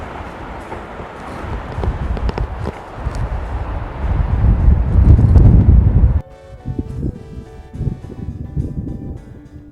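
Strong wind buffets a microphone on a mountain hiking trail, a loud rumbling roar that swells for about six seconds, then drops suddenly to quieter gusty noise.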